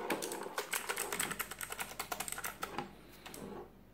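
Rapid clicky keystrokes on an Aula KB890 mechanical keyboard with blue switches, close and crisp, in a quick uneven rhythm before tapering off near the end.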